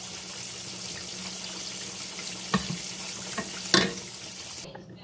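A shrimp and mac and cheese mixture is stirred in a pan, with a steady low hiss and a few sharp scraping clicks of the spoon against the pan, close and moderately loud, with no voices.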